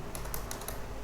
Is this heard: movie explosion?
no